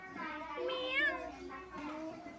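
A voice imitates a cat's meow, drawn out and wavering, with an adult's voice prompting around it at close range.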